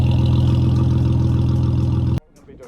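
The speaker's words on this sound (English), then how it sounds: "So I don't know why they cut the exhaust off, because it already sounds pretty meaty like that anyway." Cheap drift car with its exhaust cut off, idling loud and close with a deep, steady rumble, then abruptly shut off and followed by faint background noise.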